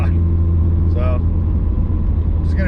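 A Mitsubishi Evo 8 GTR with a 6466 turbo and an ACT clutch cruises on a highway, a loud, steady low engine drone filling the cabin, with brief higher whines rising over it.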